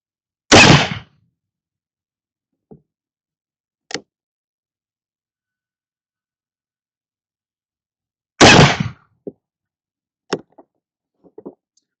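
Two loud black powder gunshots from a Dragoon revolver firing 35-grain charges, spaced several seconds apart. Each sharp report has a short, faint tail, with small clicks and handling noises in the quiet gaps between shots.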